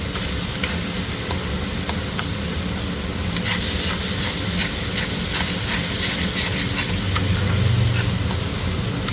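Coconut paste water poured into frying spice masala for masala baingan, giving a loud, steady hiss and sizzle of steam that swells toward the end, with light stirring scrapes and no talk.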